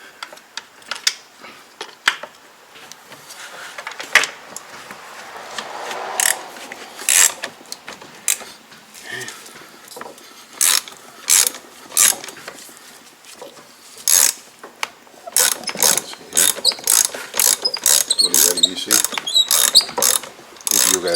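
A ratchet wrench with a long adapter works on a Porsche Macan spark plug, giving bursts of sharp, close clicking with pauses between strokes.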